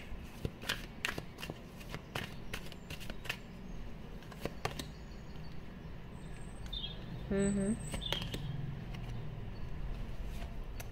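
Tarot cards riffled and shuffled by hand, a run of quick crisp flicks and slaps close by, with a soft voice speaking briefly in the background.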